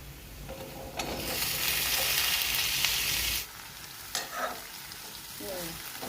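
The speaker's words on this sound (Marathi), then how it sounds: "असे चांगले परतवून घ्यायचे याच्यामध्ये त्याला. आणि मग भेंड्या टाकायच्या." Okra sautéing in a pan for a Marathi home-style vegetable dish, giving a steady close sizzle with stirring scrapes for a few seconds before dropping to quieter crackles and a few utensil clinks.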